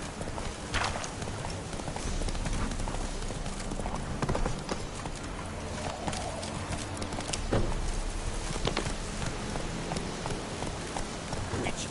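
Roach, a horse in The Witcher 3, gallops continuously in a fast, even rhythm of hoofbeats over a rain-like wash, with occasional short voices over it.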